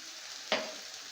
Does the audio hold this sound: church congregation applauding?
no